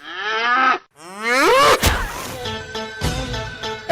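A restless, agitated cow moos loudly twice, long drawn-out calls close by, followed by a brief thump and rustling.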